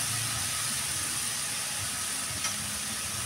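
Vegetables for oil-free singara fry in a pan over low heat, giving a steady hissing sizzle with a faint click of stirring partway through, close up and with no talk.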